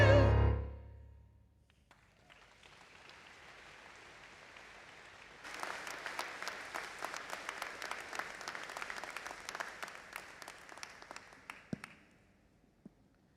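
Applause rises from a university convocation audience, starting softly and then swelling into a dense, steady patter of many hands before fading out. A loud thump opens the passage.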